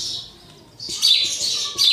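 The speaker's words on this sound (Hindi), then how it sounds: "चिड़ियों की आवाज़ आ रही है" Small birds chirp and tweet in bright, quick bursts close by, lively and fairly loud, alone without any talking.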